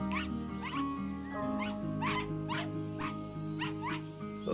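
In the video game Into A Dream, a dog barks in a string of about eight short, evenly spaced yaps over a soft, steady musical backdrop, moderately quiet and slightly distant, with no voices.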